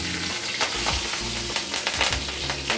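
Green chillies and cumin seeds crackle in hot oil, a bright steady sizzle broken by repeated sharp pops and spatters, with low hum from the stove underneath.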